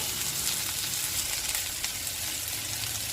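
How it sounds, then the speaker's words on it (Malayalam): Steady, close sizzling of green chillies, garlic and ginger sautéing in a hot pan, a continuous frying hiss with no voices. "അത് ചേർത്തൊന്ന് വഴറ്റി കൊടുക്കാം"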